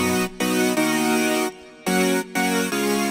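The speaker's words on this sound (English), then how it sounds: "I ended up using a flanger" A buzzy synth plays sustained chords in short blocks, with Logic's internal flanger on its default preset adding a sweeping, swirling color, with brief gaps between notes.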